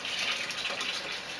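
Homebrew beer wort pours from squeezed grain bags in a steady, hissing liquid stream, close and continuous for a brief moment.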